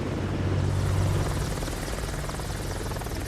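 A military attack helicopter hovering in Microsoft Flight Simulator 2024, a steady loud rotor drone with a rapid chopping pulse and engine hum, continuous and unbroken.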